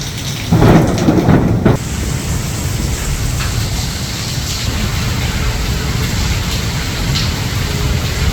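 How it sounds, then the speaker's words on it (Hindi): A loud crack and rumble of thunder breaks early, then steady rain patters on for the rest, a dense hiss with low rolling undertones. "अभी रात को देखिए बादल गड़गड़ कर रहे हैं।"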